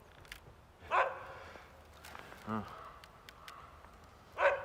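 Sled dogs at a musher's yard in the Haut-Jura give two loud barks about three and a half seconds apart, with a short yip between, and someone speaks quietly under them.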